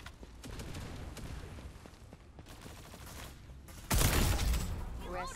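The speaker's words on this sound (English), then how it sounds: "The White Dwarf is a fucking great SMG" Rapid White Dwarf SMG gunfire in the shooter game Farlight 84, dense rattling bursts over continuous game noise, with a louder, harsher burst near the end and faint voice in the mix.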